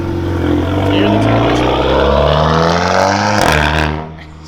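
A loud Whipple-boosted Mustang GT with new side skirts rolls out, its heavy engine drone and turbo whine sustained and close for about four seconds before easing off.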